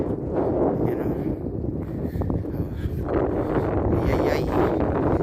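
Strong wind roars and buffets the microphone without a break, a loud, gusty rumble with no voices.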